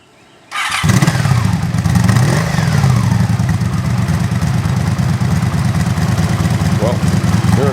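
A 1984 Honda Magna motorcycle engine starts on full choke after a short silence, catching at once and then settling into a loud, steady, close idle.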